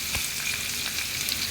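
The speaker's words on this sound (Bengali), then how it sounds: "ওই তেলেই আবার আমি কয়েকটা কালো জিরে, পেঁয়াজ লঙ্কা কুচনো" Black cumin, chopped onion and chilli fry in oil left over from frying hilsa fish, making a constant bright sizzle with scattered crackles and soft stirring noises.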